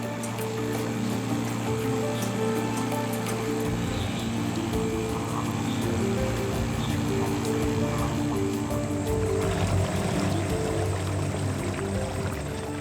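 Steady droning boat outboard motor hum on a tropical river runs throughout with a constant low tone, the engine noise continuous and fairly close, with a slight shift partway through.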